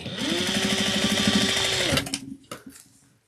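A sewing machine stitching the collar of a handmade elf doll runs steadily and close for about two seconds, then stops, followed by a few faint handling clicks.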